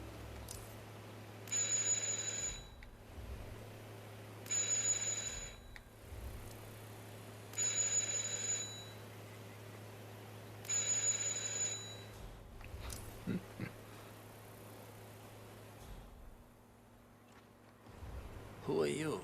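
A doorbell in the Hitman stealth game, set in the suburban neighbourhood of Whittleton Creek, rings four times in a steady rhythm, each bright electric ring lasting about a second, fairly faint over a low background hum.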